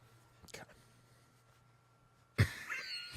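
A person coughs twice on a talk show: a short faint cough early on, then a louder, sharper cough close to the microphone near the end.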